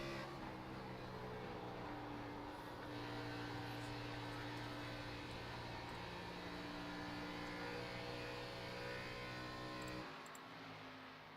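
Xfinity stock car engine droning steadily as it laps the track in the iRacing sim, a loud sustained tone with small pitch shifts, dropping slightly near the end.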